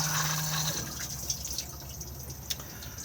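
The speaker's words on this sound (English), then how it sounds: "then a push to flush on the top just here" Flush of a Thetford cassette toilet in a motorhome washroom, a soft watery rush and trickle with a brief mechanical hum at the start and a couple of small drips or clicks, fairly quiet.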